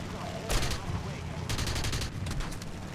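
Aircraft guns firing in the air-combat video game War Thunder: three sharp rapid-fire bursts, the middle one longest, cutting over a steady low engine rumble.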